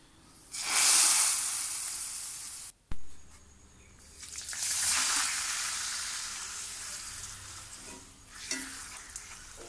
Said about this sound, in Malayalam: ഇനി അതിലേക്ക് കടുകും വേപ്പിലയും വറുത്ത് താളിച്ചിടാം